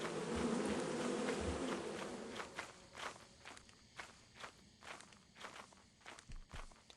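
Bees buzz in the Lethal Company video game, a dense droning swarm up close that fades as hurried in-game footsteps take over, thumping in an uneven running rhythm.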